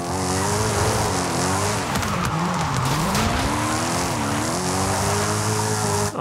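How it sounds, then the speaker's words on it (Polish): A car drifts in Forza Horizon 5, driven with a tiny Thrustmaster eSwap wheel, its engine droning steadily while the tires squeal continuously through a long slide, loud and sustained with wavering pitch and no talking. "Chyba najlepszy drift, znaczy no, najlepszy drift, jaki zrobiłem do tej pory"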